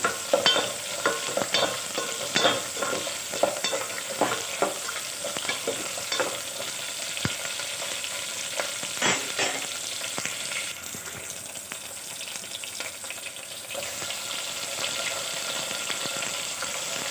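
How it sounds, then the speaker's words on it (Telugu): Tomato pieces with turmeric and chili fry in oil for a drumstick and raw mango sambar, giving a steady close sizzle broken by frequent scraping stirs, with no talking. "టమాటా ముక్కలు అన్నీ బాగా మక్కనిచ్చుకోవాలండి ఆయిల్లో"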